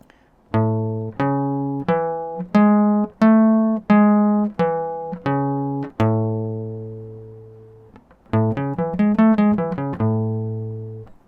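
A guitar plays a two-octave arpeggio shape as single plucked notes one after another, ringing clearly with no voices, then a brief pause before a quicker run.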